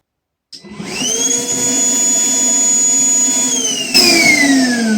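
A Milwaukee wet vacuum cleaner starts up and runs steadily with a loud, even motor whine while sucking up water. The pitch shifts sharply near the end as the float cuts off the flow.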